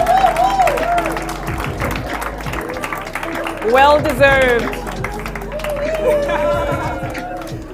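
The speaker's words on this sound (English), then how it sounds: "One more round of applause for the team from Safaricom and M-Pesa" Audience applause at a brand awards ceremony in Kenya, honoring the Safaricom and M-Pesa team; steady clapping and crowd noise run throughout, with an amplified host talking over it and a swell of cheering midway.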